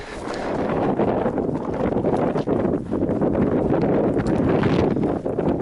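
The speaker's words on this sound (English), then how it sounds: "It's windy up here." Strong, continuous wind on a mountain along the Pacific Crest Trail between Acton and Mojave roars and buffets the microphone throughout, a loud rushing noise with no voices.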